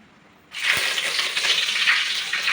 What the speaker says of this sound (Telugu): ఫస్ట్ ఆయిల్ వేస్తాం ఆయిల్ వేసినాక ఎండుమిర్చి చేస్తాం